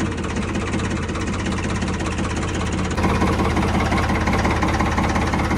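A Ford 3600 tractor engine idles steadily just after starting, a continuous low rumble with a faint knocking pulse that gets slightly louder partway through, with no voices.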